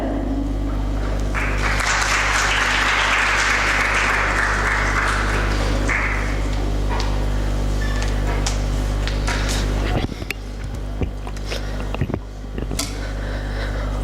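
Audience applauding performers at a school English speech competition, a broad wash of clapping that swells early, thins out after several seconds and ends with scattered claps over a steady low hum.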